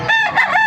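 A rooster of the SBR gamefowl line crows loud and close in one sustained, wavering call, with no voices over it.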